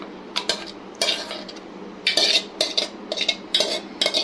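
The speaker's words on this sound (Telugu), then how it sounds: "మొత్తం ఒకసారి కలిసేంత వరకు తిప్పుకోవాలి" A spoon stirs gongura leaves and green chillies in a pan, giving repeated metallic scrapes and clinks in an uneven rhythm, close and clear with no talking.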